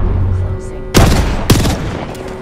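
Gunfire in the battle royale game Apex Legends, with two sharp, loud shot bursts cracking over a low game background.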